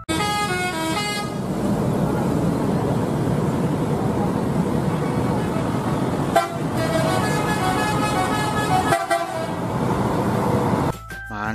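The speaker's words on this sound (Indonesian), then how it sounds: "Ada mobil bus." A bus drives past on a road near a construction site, with several short horn toots sounding over steady loud traffic and engine noise, no voices.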